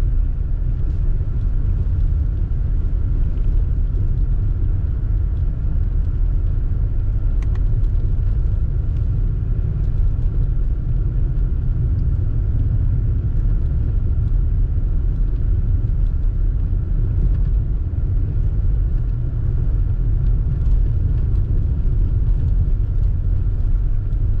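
A Subaru Forester Sport drives slowly along a snowy road, slowing down with the paddle shifters, giving a steady low cabin rumble of engine and tyres throughout, with no talking.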